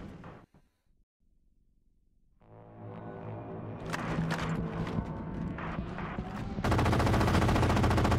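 Gunfire in the video game Halo 4, building from scattered bursts to heavy, continuous rapid shooting from big guns, dense and loud by the end.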